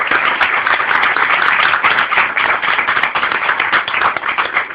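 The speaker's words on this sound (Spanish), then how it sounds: "Denle un aplauso al Señor." A church congregation claps in applause during a sermon, a dense, steady wash of many hands that stays loud and even for the whole stretch with no talk over it.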